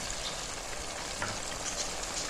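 Chickpeas are stirred in a hot pan as they sizzle, giving a steady crackling fry with faint scraping, close and constant for a couple of seconds and free of any voices.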